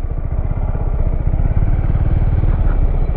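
A motorcycle engine runs at the Bukit Kayu Hitam border crossing, a steady, close, rapid putter throughout with no talking.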